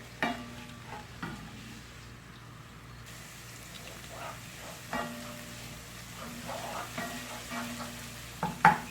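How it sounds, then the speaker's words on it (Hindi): Quiet, steady sizzling of ginger garlic paste frying and browning in hot oil for chicken keema, with occasional soft stirring clinks and scrapes close by. "ऑयल हमारा गर्म हो चुका है तो अब इसमें अदरक और लहसुन का पेस्ट शामिल करते हैं। और इसको थोड़ा ब्राउन कर लेते हैं।"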